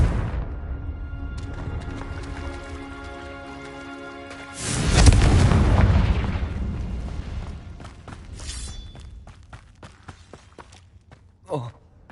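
A Confringo blasting spell in Hogwarts Legacy sets off a deep, booming explosion partway through, rumbling loudly for a couple of seconds over quieter game ambience and scattered clicks and thuds.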